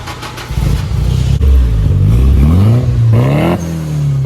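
A straight-piped new edge Ford Mustang GT revs hard and close, engine rising and falling through several throttle blips, then a hiss as an HKS turbo blow-off valve vents before it settles back to a rumbling idle.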